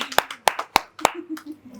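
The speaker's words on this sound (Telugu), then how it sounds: "క్లాప్స్ కొట్టండి" A few people clap for the winner of a game at a send-off party, four sharp distinct claps in a loose rhythm, then softer scattered claps with a voice murmuring underneath.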